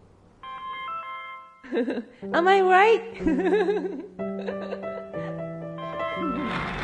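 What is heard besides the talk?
mobile phone ringing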